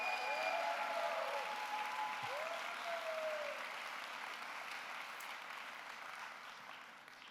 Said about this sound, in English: Let's give him a big round of applause for all he has done.